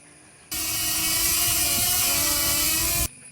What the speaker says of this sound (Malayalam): ഡ്രോണൊക്കെ പറത്തുന്നുണ്ട്